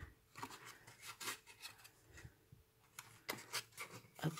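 Scissors snip through a short length of twine with several crisp cuts and small rustles, close and fairly quiet, no voices.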